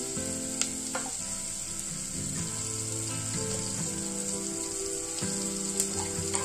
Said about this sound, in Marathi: हे छान त्याची परतून घ्यावं।